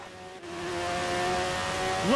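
A CART 1998 race car at Mid-Ohio accelerates in a racing video game, its engine note rising steadily as it holds a high-pitched whine, then climbs sharply through the gears near the end, loud and close.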